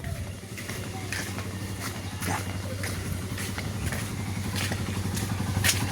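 A motorcycle engine idles steadily with a low rumbling hum, while people talk over it throughout.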